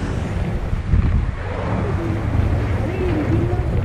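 Wind buffets a boat at sea near Khanderi fort off the coast, a steady rumbling roar of wind on the microphone and water, with a faint engine-like drone underneath.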